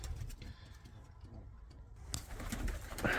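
Soft, low cooing of pigeons nearby, repeated murmuring calls with faint rustling and scuffling in the background.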